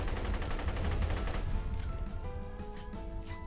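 Rapid automatic gunfire from a weapon in the video game Borderlands 2 sounds as a dense, loud burst that then thins into fainter rattling shots over a steady game background.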